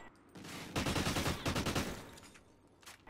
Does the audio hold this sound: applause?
no